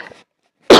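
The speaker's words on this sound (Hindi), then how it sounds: "खांसी इसलिए आ रही है" One loud, close cough bursts out after a brief faint throat sound and a short silence.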